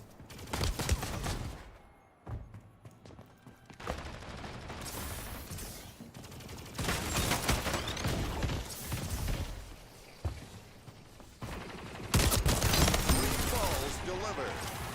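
Rapid SMG gunfire in the video game Splitgate, bursts of automatic shots mixed with mechanical weapon and game effects, mostly under a player's talk.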